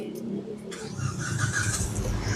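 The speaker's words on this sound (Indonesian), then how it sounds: "Sekarang kita coba start mobil ya." A 2010 Proton Gen 2 Persona 1.6 automatic has its key turned and the engine starts: a short crank leads into a steady idle running close by. There is no talking.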